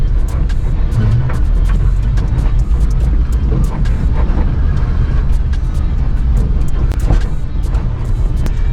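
A Suzuki 4x4 on new DOT tires drives through snow in four-wheel drive, its engine giving a steady, loud, continuous rumble with road and tire noise throughout and no break.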